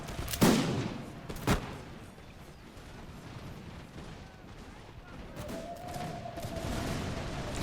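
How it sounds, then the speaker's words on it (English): Musket volleys from dragoons in the battle game Imperial Splendour: two sharp cracks early, then a duller fusillade rumble with faint voices talking underneath. "it's only first rank of the dragoons that fire"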